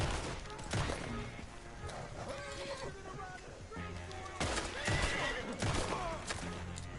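A horse whinnies loudly, then neighs again a few seconds later, over dense background noise with hoofbeats and scattered bangs in Red Dead Redemption 2.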